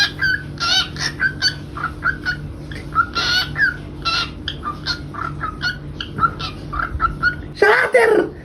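A pet bird, a small songbird, chirps a sequence of short bright whistled notes at a steady pace, close and clear, forming a tune it learned from repeated playback, with a louder burst of song at the end.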